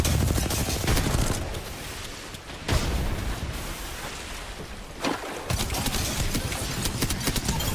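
Rapid bursts of gunfire from a video game shooter crackle densely, with brief pauses between volleys and a few louder booming shots, loud and close throughout.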